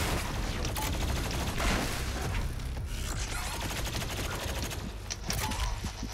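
Plasma rifle in DOOM Eternal firing in a sustained rapid stream, a dense rattling barrage of energy shots layered with explosions and mechanical clatter, loud and continuous throughout.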